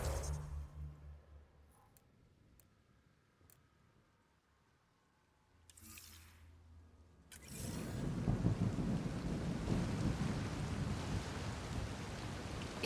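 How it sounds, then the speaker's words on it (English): Quiet ambience with a brief hiss, then steady heavy rain in Mass Effect Andromeda swells in and continues as a dense, loud wash. "It's raining? How is it raining?"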